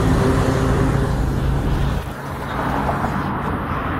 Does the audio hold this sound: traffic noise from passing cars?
yes